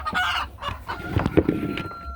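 A hen clucks in short, uneven bursts while laying an egg in a farm coop, the calls close and moderately loud, alone without talk.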